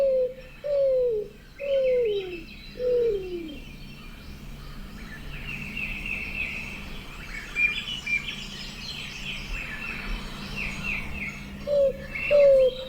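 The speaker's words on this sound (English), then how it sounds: "I've got the Roadrunner call." Recorded roadrunner call: a series of four descending, mournful coos close together, then after a pause two more, with higher chirping birds faintly in the background.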